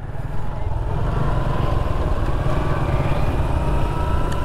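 A motorcycle engine with the throttle rolled on during a riding lesson, a steady droning motor running close and loud throughout with little change.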